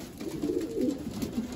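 Racing pigeons coo softly in a loft, a steady low burbling chorus of several birds running without pause.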